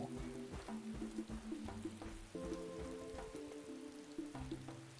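Rain falls in the Paleo Pines video game, a steady patter of drops over a soft wash, with tonal musical notes running alongside and no voices.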